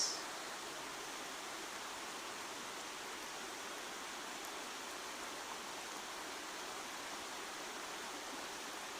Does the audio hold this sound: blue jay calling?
no